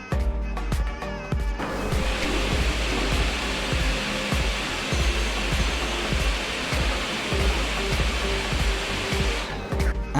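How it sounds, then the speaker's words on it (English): An MSI GP75 Leopard gaming laptop fan running with Cooler Boost on gives a loud, steady broadband whoosh of rushing air. It holds constant throughout, with a few brief clicks near the start. "this is how it sounds when it's turned on"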